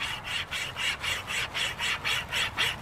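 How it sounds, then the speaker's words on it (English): A homemade wire cable saw rasps back and forth through a tree limb in a steady rhythm of about nine even strokes. The sawing is close and moderately loud, with no talk. "I don't want to break my little cable saw"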